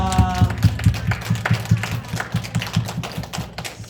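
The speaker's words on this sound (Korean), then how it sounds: "우리 하나님 앞에 영광의 박수 한번 올려드리겠습니다" A children's Sunday school congregation at a church claps hands in a steady, fairly loud rhythmic beat, with faint tonal music or a held note underneath at the start.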